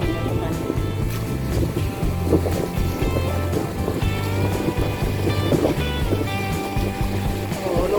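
Strong sea waves wash against a fishing pier in Pattaya where fishing boats are moored. Steady surf and wind noise roar continuously, with a low engine hum and faint voices in the background.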